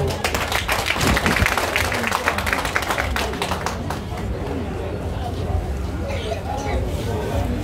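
An audience at a public gathering claps and cheers loudly at first, the applause thinning into scattered claps and chatter over several seconds.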